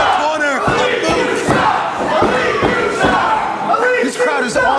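A wrestling crowd at a BPW Futures championship match roars on its feet, a loud sustained wall of cheering and shouting with occasional thuds and slams breaking through, while a commentator talks over the noise.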